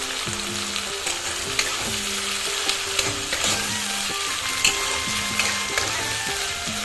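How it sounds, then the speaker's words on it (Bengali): Ginger paste frying with garlic in hot oil, giving a constant loud sizzle, with regular scraping strokes of a spatula stirring the pan in a steady rhythm, close up and free of talk. "আদাটাকে একটু কষিয়ে নেব"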